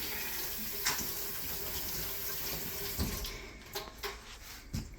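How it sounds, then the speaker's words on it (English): Tap water runs steadily into a kitchen sink while potatoes are washed, a close, continuous splashing hiss with occasional thumps and louder splashes as the potatoes are handled. "You don't need to see me washing potatoes."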